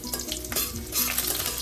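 Crushed garlic cloves and cumin sauté in hot oil, a brief close sizzle with a spoon stirring and scraping through the pan.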